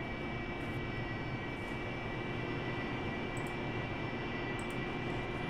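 Jet engine of an AV-8B Harrier in the DCS flight simulator, a steady, dense roar holding level as the aircraft builds power for takeoff, with faint high whines over the continuous rush.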